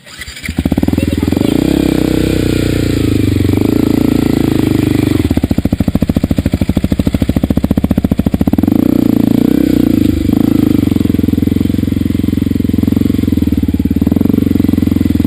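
A motorcycle engine runs loudly and close with its radiator fan on, rumbling steadily with a brief rougher, faster patch midway.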